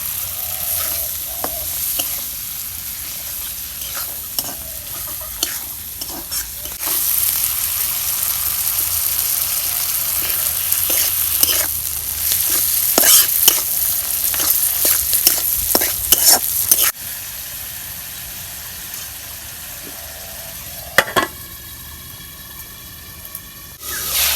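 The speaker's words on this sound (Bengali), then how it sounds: "তেলের মধ্যে ভুটকি দিয়ে বাইজে নেই তেল দিয়ে যে কষাইতেছি দেখছেন" Dried fish fries in hot oil with a continuous close sizzle and hiss, punctuated by frequent scraping stirs that grow busier in the middle, a sharper crackle near the end, no speech.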